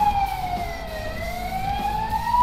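An ambulance siren wails outside, a steady rising and falling tone sweeping continuously throughout, fairly loud over low road rumble with no talk.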